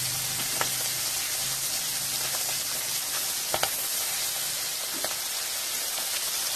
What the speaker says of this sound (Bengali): আগের গুলোর মতো এগুলো ভেজে নেব।